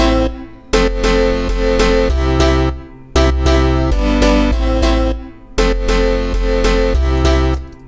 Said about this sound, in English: So here's our bass line and our piano.